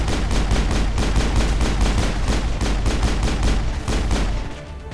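Rapid, continuous gunfire from the video game Mass Effect, a steady stream of loud repeated shots with no pauses for nearly five seconds before tapering off slightly at the end.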